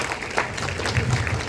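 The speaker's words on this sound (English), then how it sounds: "Can we have a big round of applause for everyone for our panels today?" Audience applause at the Jaipur Literature Festival 2024, a full round of clapping from a crowd, continuous and moderately loud, with some faint voices mixed in.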